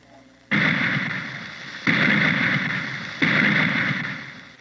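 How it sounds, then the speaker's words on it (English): Three heavy 81 millimeter mortar blasts in a cartoon, each a sudden loud boom followed by a long rumbling decay, spaced about one and a half seconds apart. "They're setting up some mortars now."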